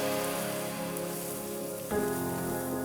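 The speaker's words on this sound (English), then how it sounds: "Let's add in our mushrooms. And we're gonna let that saute for a little bit." Mushrooms and onions sauté in butter in a pan, a steady close sizzle and hiss over a faint hum, with a soft clunk partway through.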